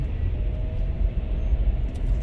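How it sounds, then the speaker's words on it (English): Heavy trucks crowd road traffic near the Buena Vista exit, a steady low rumbling drone heard from inside a moving car, with no talk. "there's too many trucks."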